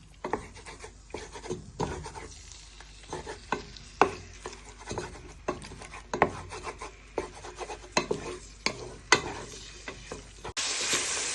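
Paprika chicken sears in a pan while a wooden spoon flips and scrapes it, giving a steady sizzle broken by repeated close, sharp scraping strokes, with a louder burst of sizzle near the end.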